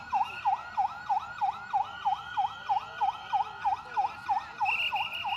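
An ambulance siren cycles in a fast, regular yelp during a factory fire drill, repeating about three times a second, loud and steady with no other sounds over it.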